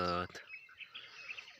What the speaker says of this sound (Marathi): पक्ष्यांचा चिवचिवाट हे ते ऐकायला